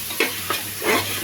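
A spoon stirs food mixed with chili powder and salt in a pan, giving three quick scraping strokes over a low sizzle, close and without voices.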